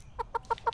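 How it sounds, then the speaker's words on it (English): A chicken clucking in four quick, evenly spaced nasal clucks, fairly faint and close, with a low background hum and no talking. "A chicken, that's right."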